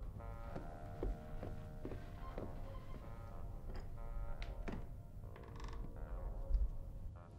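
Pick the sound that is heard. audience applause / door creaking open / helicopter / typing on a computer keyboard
door creaking open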